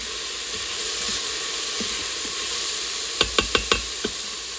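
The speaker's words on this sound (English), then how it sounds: "And here goes the garlic. I'm going to cook that for about 30 seconds." Garlic sizzling in a hot pan, a steady hissing fry with a quick run of four or five sharp utensil taps near the end, close up with no talk.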